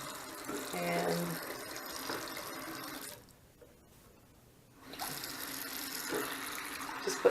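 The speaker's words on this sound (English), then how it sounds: "going to put water in here that is just not cold, but not warm either" Lukewarm tap water runs steadily into a sink, a soft continuous splash that stops briefly and then resumes, quiet and close.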